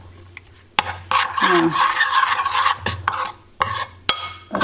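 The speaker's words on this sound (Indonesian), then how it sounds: "Kita aduk lagi." Crispy sweet potato with sesame being stirred in a pan, scraping and clattering of utensil against metal in uneven bursts, close and loud, with a brief spoken word.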